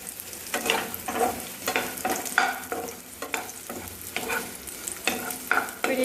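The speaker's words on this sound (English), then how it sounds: "So I'll roast all the sweet potatoes." Sweet potatoes roast in ghee in a pan on medium flame, giving a steady sizzle broken by repeated bursts of stirring and scraping, close and fairly loud, with no voices.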